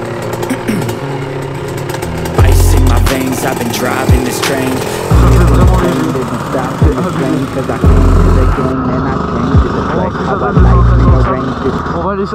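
A tuned Yamaha YZ 125 two-stroke dirt bike engine revs loud and close, with repeated sharp throttle blips and buzzing high-pitched bursts between idling, while people talk nearby.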